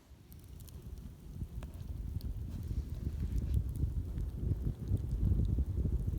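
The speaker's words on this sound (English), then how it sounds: "Just a little bit of wind tonight." Wind rumbles and buffets against the microphone at a night campsite beside a campfire on a trail, low and gusty, building in strength over the few seconds, with no talk.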